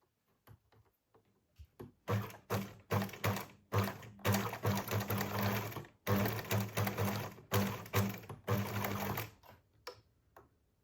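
A sewing machine stitches the ends of elastic together for a top, running in short rhythmic bursts of rapid needle clatter with brief pauses, close and clear with no talking.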